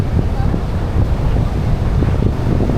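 Wind and surf at the seashore: a steady, loud rush of wind buffeting the microphone over low rolling wave noise, continuous for the whole stretch.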